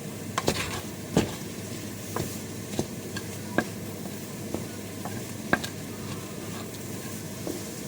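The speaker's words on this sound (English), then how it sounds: "Then we just stir it around" Eggs being stirred in a hot frying pan, with a soft steady sizzle and scattered scraping clicks of a utensil against the pan, close and unaccompanied by talk.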